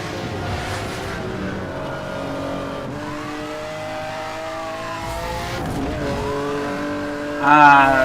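A Lamborghini Countach engine races in a video game. The revs climb and drop through gear changes, and a brief tire screech comes near the end.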